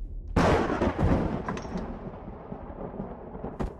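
An assault rifle in the Empyrion game fires a loud, punchy shot with a rolling reverberant tail, followed by a second blast about half a second later and a lone sharper crack near the end.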